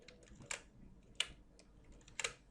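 Light typing on a computer keyboard, with three distinct clusters of soft key clicks over a quiet room hum, fairly faint and close, with no talking.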